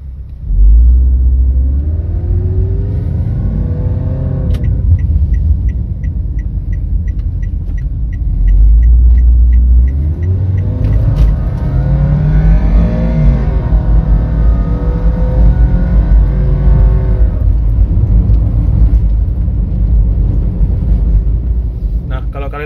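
A simulated engine rumble from the stereo of a Toyota Calya or Daihatsu Sigra revs repeatedly while driving, pitch rising and falling as it accelerates, loud and close, with a voice talking intermittently over it.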